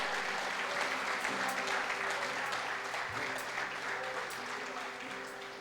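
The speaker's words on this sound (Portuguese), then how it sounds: "Você pode dar um aplauso ao Senhor?" Sustained applause from a church congregation during a worship service, a dense, steady wash of clapping that holds for several seconds and slowly fades toward the end.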